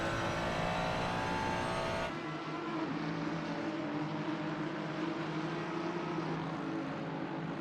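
A race car engine drones steadily along the back straight at Watkins Glen in a racing video game, a sustained mid-level motor tone that shifts character partway through and then holds a smooth, even whine.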